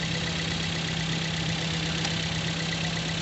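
Toyota Vios engine idling steadily with the air conditioning on, a continuous even hum with a low mechanical drone held at constant level throughout, no voices present.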